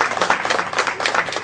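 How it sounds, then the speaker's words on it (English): A live show audience claps in a short, dense burst of applause, steady and fairly close for the whole moment with no voices over it. "let's give them a nice round of applause"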